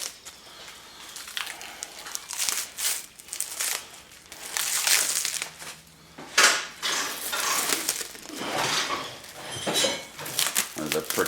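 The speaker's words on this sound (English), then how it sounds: "We're going to peel the packaging off." Protective plastic packaging is peeled off the right front rain deflector of a 2022 Ford F350, making close crinkling, crackling and rustling bursts with a few sharp snaps, and a voice is heard intermittently.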